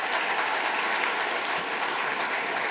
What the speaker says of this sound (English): I'd just like everyone in the room to applaud that discussion we heard just then